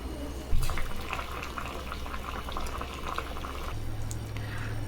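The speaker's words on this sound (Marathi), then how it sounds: "पाणी गरम करू, त्याच्यामध्ये 10 मिनिटं कांदा वाफवून घेऊ" Water boiling in a pot with two medium onions and a few cashews steaming for a paste, a soft continuous bubbling with a clink at the start, close and alone.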